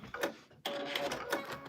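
A sewing machine that is acting up stitches a quick quilt in a few short, close bursts of mechanical whirring with brief pauses between runs.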